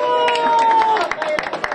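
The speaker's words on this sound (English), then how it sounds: "Let's give her a round of applause." Children applaud for a young girl called up to read at an elementary school's new library, a short burst of dense clapping with crowd noise and an adult voice over it.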